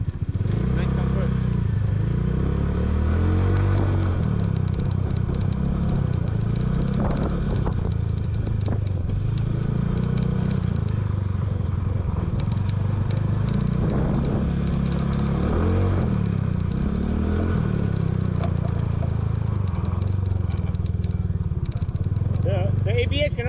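Motorcycle riding on a road, a steady loud engine drone with rumbling pulses and wind buffeting throughout, sometimes under people talking.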